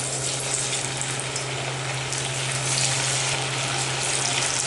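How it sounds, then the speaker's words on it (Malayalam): Marinated chicken pieces frying in oil in a pan over medium flame, giving a steady, dense sizzle with a constant low hum underneath, continuous and close throughout with no talking. "നമ്മളിനി മാരിനേറ്റ് ചെയ്ത് വെച്ചിരിക്കുന്ന ചിക്കൻ പീസസ് ഓരോന്നായി അതിലേക്ക് ഇട്ട് കൊടുത്ത് ഫ്രൈ"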